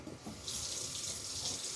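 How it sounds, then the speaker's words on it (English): Tap water runs into a roasting pan holding a pork shoulder, a steady splashing hiss that grows fuller after a brief start, fairly quiet and close. "we're gonna fill the pan with water"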